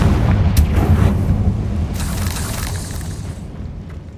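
A Confringo blasting spell explosion in Hogwarts Legacy on PS5, a loud deep boom with rumbling debris that rolls and slowly fades over several seconds, with a second sharp crack midway.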